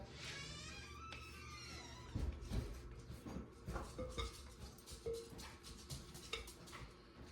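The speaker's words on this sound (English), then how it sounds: "raise it up, scrape the sides of my bowl" Metal scraper or spatula scraping the sides of a mixing bowl of carrot cake icing after the mixer is stopped, producing several close, irregular clinks and scrapes with no talk.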